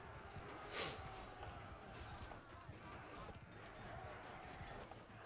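Horse hooves clip-clop in the Bannerlord video game, with a steady galloping patter and a short snort-like burst early on, layered over battle ambience while someone talks over it.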